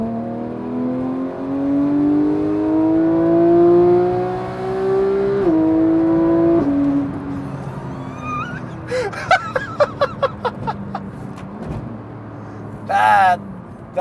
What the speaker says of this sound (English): That sounds good when you rev it out.